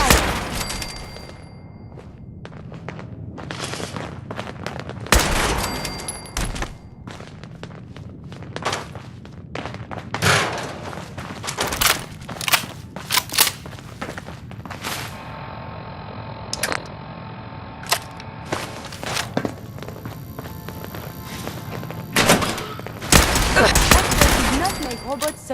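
Combat with robots in Fallout 4, with irregular bursts of sharp gunfire and impacts separated by quieter gaps, plus footsteps and some brief speech.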